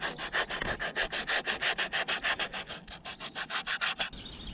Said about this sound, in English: sand the peaks on the other side to have the zigzags more distinct